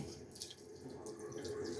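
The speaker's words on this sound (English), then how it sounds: "I'm gonna turn the water on." A newly installed sink faucet runs steadily, a continuous close water rush with no voices over it.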